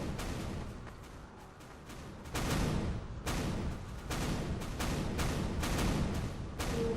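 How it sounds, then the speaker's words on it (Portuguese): Repeated heavy booms and crashing impacts of meteors striking in the video game Garry's Mod, at irregular intervals over a constant rumbling roar, like a barrage of explosions. "Tá chovendo meteoro."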